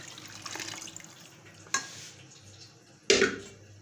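Diluted lassi is poured into roasted gram flour in a cooking pot, making soft liquid sloshing. Two short, sharper splashes or clatters stand out against the quiet kitchen background.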